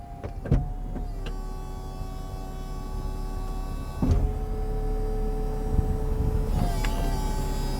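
The power convertible roof of a 2005 Chrysler Crossfire operates with a steady electric motor whine and hum, punctuated by clunks and clicks as the mechanism shifts stages, close and continuous throughout.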